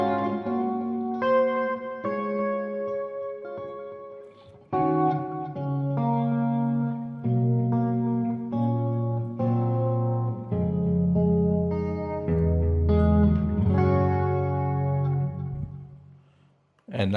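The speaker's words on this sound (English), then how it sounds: "now we switch to the second position, which is the two mini humbuckers together" Stratocaster electric guitar with its two mini humbuckers switched together, playing continuous chords and melodic lines through effects with reverb and echo, loud and close with brief pauses, ending in a short fade.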